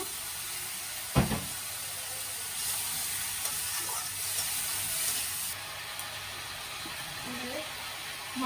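Spice masala sizzles in a frying pan after a little water is added, while cooking for a chicken biryani. A steady, close hiss runs throughout, with a brief knock early on.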